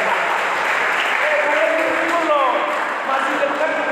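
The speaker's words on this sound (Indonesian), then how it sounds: "Sampai mereka tepuk tangan dulu sama pemuda-pemudi Cilegon ya" Young people clap together at a Christmas celebration in Cilegon, a dense, steady applause that fills the whole stretch, with voices and cheers rising through it.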